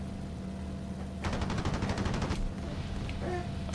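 Rapid bursts of aircraft cannon fire from a WWII Online fighter in the Luftwaffe, a dense stuttering volley lasting about a second over steady engine drone, then fading back to the hum.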